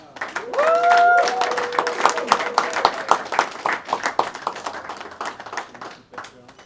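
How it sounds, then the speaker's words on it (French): Audience applause at a July 2025 graduation ceremony for a graduate, dense steady clapping from a nearby crowd, with a voice calling out at the start and talk mixed in underneath. "Allez, on va applaudir maintenant Okunda Kasongo Olivier"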